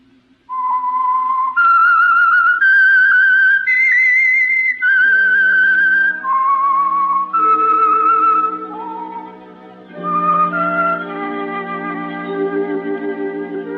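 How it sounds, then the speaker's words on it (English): A clear, melodic whistled tune rising and falling in distinct notes, close and loud, with a sustained tone joining near the end, the signature theme of the radio drama The Whistler. "That whistle is your signal"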